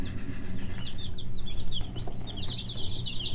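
A buff Orpington chicken clucks and chirps in short bursts over a low background hum, close and fairly quiet.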